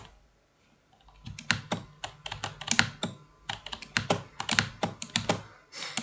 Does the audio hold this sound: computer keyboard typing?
yes